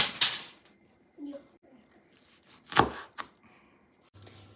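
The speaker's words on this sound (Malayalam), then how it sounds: "ഇഞ്ചി വെളുത്തുള്ളി എല്ലാം കൂടെ നമുക്ക് ഇങ്ങോട്ട് ചെറുതായിട്ട് അരിഞ്ഞെടുക്കാം" Knife on a cutting board chopping ginger, garlic and green chili in a home kitchen: a few separate sharp, close knocks spaced apart over quiet background, with a faint voice briefly heard.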